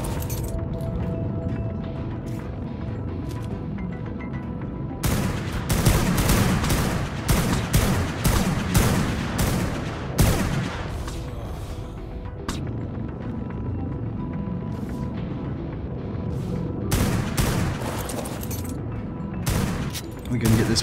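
Tek railgun fire during a small-tribe PvP raid in ARK: Genesis, loud bursts of repeated blasts and crashes clustering in the middle and near the end over steady game noise, with voices talking.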